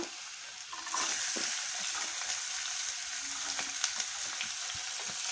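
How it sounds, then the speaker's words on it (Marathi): Onion frying in hot oil with garlic and ginger paste, a loud, continuous hissing sizzle that jumps up after a quieter first second, with scattered crackles and light stirring knocks, close and without speech. "तेलात चांगलं तळल्यानंतर त्यात आपण कांदा टाकूया।"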